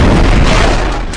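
Explosion in the war shooter Medal of Honor Warfighter: a loud, dense boom that fills the whole clip and slowly fades, heard alone without talk.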